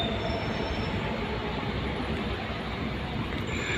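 A Dubai Metro train runs with a continuous loud rumble of rolling wheels and a faint, high squeal, heard from on board or close by with no voices.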